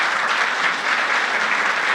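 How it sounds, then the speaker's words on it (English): Steady crowd applause at an awards ceremony after a nominee's presentation, dense continuous clapping filling the room at even loudness throughout, with no voices over it. "Give a big applause"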